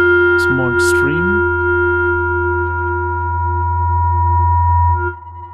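A Bitwig synth tone, ring-modulated and run through a low pass 4-pole filter, holds a loud steady hum while brief chirping, sweeping blips flicker near the start before the tone cuts off.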